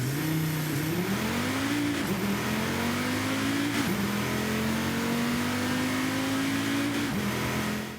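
Audi RS3 Sedan engine in Forza Horizon 5 revving steadily, pitch climbing through gear shifts with brief dips between; loud, close and continuous with no talk.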